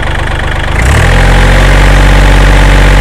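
A Kubota L4018 tractor's engine idles loudly and steadily up close with the engine bay open, a deep rumbling mechanical drone with a slight knocking character.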